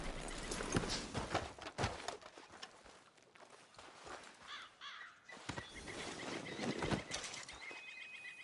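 In a video game, a horse's hooves clip-clop on the ground and it whinnies, with crows cawing in the background. The sound is faint and uneven, made of scattered hoof thuds and calls.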